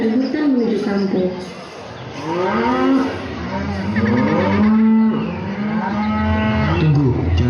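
Cattle moo loudly and repeatedly in several drawn-out, tonal calls, close by and overlapping, with voices talking among them.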